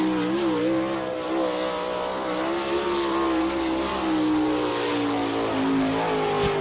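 A winged sprint car screams through a qualifying lap at Attica, Ohio, its high-revving engine whining loud and close with rising and falling pitch as it accelerates through the turns.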